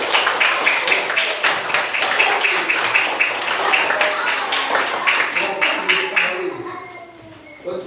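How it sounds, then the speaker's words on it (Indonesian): Classroom applause during a fourth-grade Islamic studies lesson on Eid prayer: a sustained, dense patter of many small hands clapping together, steady and fairly loud, fading out toward the end with faint voices underneath. "Tepuk tangan"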